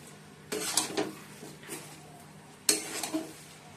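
Cabbage is stirred in a pan with ghee and garam masala, with two short bursts of metallic scraping and clinking from the spoon against the pan, separated by a quiet pause over a low kitchen hum.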